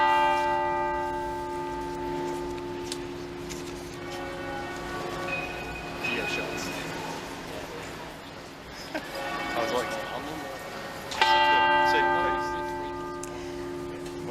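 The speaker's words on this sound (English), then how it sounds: "We're hearing tolling of the bells ringing out across the city every 10 seconds for 96 times" Church bells tolling across the city to mark the death of Queen Elizabeth II, sustained ringing tones swelling and fading at a slow pace, heard faintly under continuous talk from a news broadcast.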